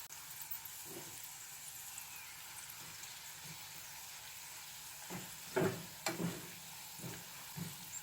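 Last year's stale chili powder sizzles quietly in leftover frying oil, a soft steady hiss with a few brief bubbling pops and stirring clinks toward the end.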